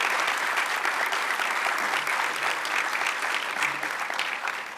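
A crowd applauds steadily for Indiana state public servants, a dense, even wash of clapping that holds for about five seconds at a constant loud level.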